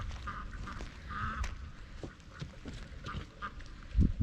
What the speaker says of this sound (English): Look at the ducks, man.